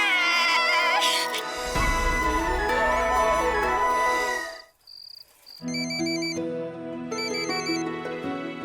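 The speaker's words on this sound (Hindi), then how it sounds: "अलका दीदी फोन बज रहा है।" A loud electronic ringtone plays a repeating melodic pattern, preceded by dense music and a brief pause before the ringing continues in cycles.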